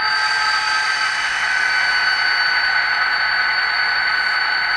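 An ESU LokSound sound decoder plays an EMD 16-cylinder 645E3B diesel engine on a model locomotive creeping at low speed step, giving a steady electronic engine hum and whine without pause.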